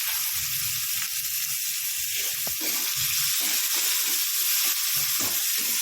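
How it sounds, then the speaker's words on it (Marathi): Chopped onion sautés with curry leaves in a pan, giving a continuous loud sizzle and frying hiss. Faint stirring scrapes sound now and then underneath. "तर छानपैकी कांदा परतून घेणार आहे."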